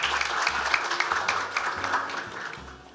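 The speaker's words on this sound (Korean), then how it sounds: "큰 박수로 환영해 주시기 바랍니다" Audience applause at a software medical device industry forum welcoming the discussion moderator, a dense steady crowd clapping that carries through the short stretch and fades slightly at the close.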